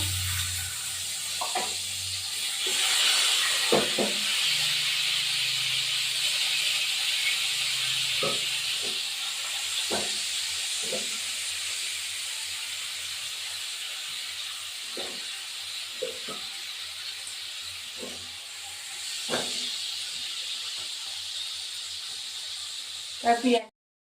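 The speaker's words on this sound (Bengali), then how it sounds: "আমি এখন মাছটা ভাজবো" Tengra fish frying in hot oil, a steady broad hiss and sizzle running throughout with scattered spatter pops and occasional utensil knocks, close and moderately loud.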